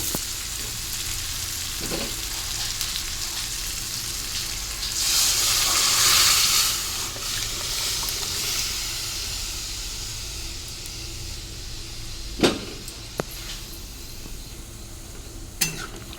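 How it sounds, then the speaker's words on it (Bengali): Cooked lentils poured into hot oil in a pan give a steady close sizzle. A louder burst of hissing steam rises in the middle, then fades, with a few sharp clinks near the end and no talk. "ডালটা আমি এবার ঢেলে দেবো"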